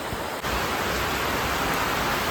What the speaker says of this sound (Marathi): पाणी बघा जाम पाणी पडतं.